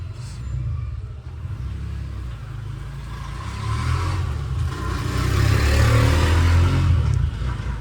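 An auto rickshaw engine runs with a steady low rumble and clatter, the revs rising and growing louder toward the end as it starts to move off.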